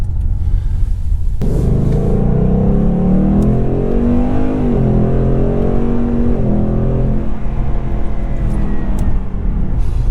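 A 450 hp Ford Mustang V8 heard from inside the cabin: a loud engine rumble that climbs in pitch as the car accelerates, with gear shifts breaking the rising tone.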